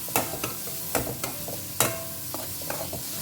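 Finely chopped onion fries in a pan for bhindi bhaji, a soft background sizzle punctuated by sharp spatula scrapes and clinks against the pan at irregular intervals, no voices.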